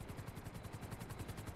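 Rapid rhythmic rotor chop from police helicopters chasing in a video game, steady and fairly faint, with no talk over it.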